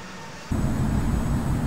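An aircraft taking off from a runway in the Infinite Flight simulator game: after a brief near-silent moment, a loud, steady low engine roar kicks in abruptly and holds evenly to the end, with no voices.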